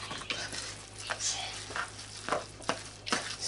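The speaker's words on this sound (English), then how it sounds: "Stir that in this way" A spoon stirs flour into a wet salmon patty mixture in a bowl with soft, steady, squelchy scraping strokes. The sound sits over a low constant hum, with a few sharper swipes at the end.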